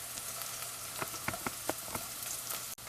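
Onions browning in a pan sizzle with a soft, steady hiss and occasional small pops and clicks, close and quiet, with no voices.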